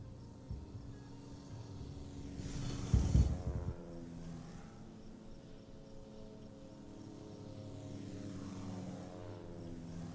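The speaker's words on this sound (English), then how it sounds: "general aviation, they're just taking off like crazy" Simulated general aviation aircraft take off at an airport in the game Airport CEO: a propeller-engine drone swells to a loud peak early on, then settles into a lower steady hum with a second engine rising faintly later.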